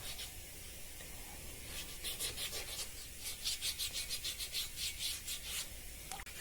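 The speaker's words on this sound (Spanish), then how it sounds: "Y sin olvidarnos ningún espacio de lijar para quitar totalmente las rayas del anterior lija." Hand sanding of a carved alabaster Möbius strip sculpture: steady abrasive rubbing that swells into a run of quick, rhythmic back-and-forth strokes, close and fairly loud, with no voices.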